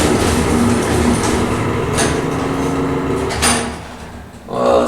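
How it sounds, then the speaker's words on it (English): Original OTIS traction elevator in a hospital, its door operator humming and whirring with clunks as the doors move and interlock, close and fairly loud, ending in a swell of motor noise. "Clunking, interlocking, the humming, whirring door operator."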